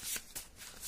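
Tarot cards riffled and shuffled in a few quick rustling bursts, close and fairly quiet, with no talking.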